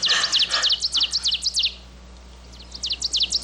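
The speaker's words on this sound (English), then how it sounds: "A yellow-rumped warbler." A yellow-rumped warbler singing, bright rapid chirping trills in two bursts separated by a short quiet gap, clear and fairly close against a faint low hum.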